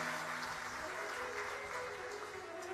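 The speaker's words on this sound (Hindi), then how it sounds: "जोरदार ताली बजाकर ईश्वर जी और गोरा जी का स्वागत करें" Audience clapping loudly to welcome deities at a live Shiv Mahapuran katha, a steady dense wash of applause throughout, with no gaps.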